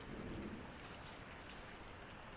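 A thunderstorm in the Lucent VR game on Quest 3, rain hissing steadily with a low rumble of thunder beneath it, faint and continuous, with no talk.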